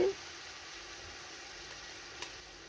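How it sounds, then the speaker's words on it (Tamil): Onions and greens sauté in a pot for chicken biryani, giving a steady, soft sizzle and hiss that runs evenly throughout, with a brief stirring scrape near the end. "இது கொஞ்சம் லைட்டாக அது வதங்கிக்கட்டும். இப்போ வதங்கிடுச்சு."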